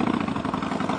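A small motorcycle engine drones steadily and loudly throughout, a continuous buzzing rumble heard up close with no pauses.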